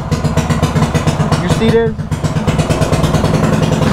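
A mini bike engine idles high with a steady, fast mechanical putter throughout, dipping briefly midway, while someone talks close by over it.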